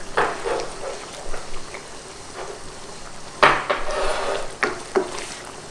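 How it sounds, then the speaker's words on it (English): Pea eggplants being stirred into a pot of Thai green beef curry, with close, intermittent scraping and clinking of a utensil against the pot under a soft, steady simmer. "So I'll put our pea eggplants in there and stir it in."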